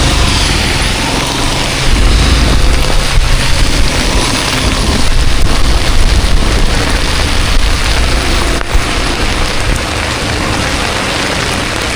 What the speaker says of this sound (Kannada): ಫುಲ್ ಜೋರಾಯ್ತು ಮಳೆಯಲ್ಲಿ,